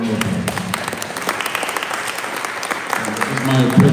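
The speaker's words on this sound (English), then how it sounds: "So big round of applause." An audience claps together in a welcome for a visiting USA cricket chair at a regional meet-and-greet, a dense steady patter of applause that swells near the end, with voices mixed in.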